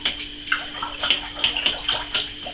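Peach and elderflower champagne being stirred and aerated in a jug, with sloshing, gurgling liquid in rhythmic swirls about every half second, close and fairly loud, with no voices.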